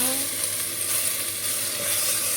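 Shiitake mushrooms with bamboo fungus, cooking in oyster sauce, sizzle steadily in a hot pan under close stirring, a dense, even hiss throughout with no talking.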